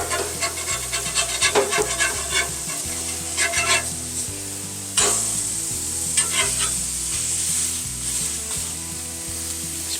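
Sausages sizzle in a frying pan as they are flipped and pressed, with scraping and clinks of a utensil against the pan over a steady frying hiss and a low mechanical hum.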